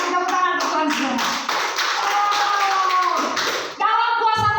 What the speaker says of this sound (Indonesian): Kasih tepuk tangan ke Tuhan saudara